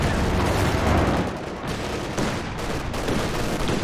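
Bofors barrage fire in the Company of Heroes 2 video game: a dense, continuous rumble of gunfire and explosions, loud and close, with overlapping bursts throughout.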